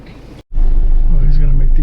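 Big trucks on a road in Thailand give a low, steady engine rumble heard from close by. It starts after a brief dropout and holds evenly to the end.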